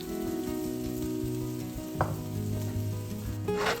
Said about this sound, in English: Toss it again so everything is evenly coated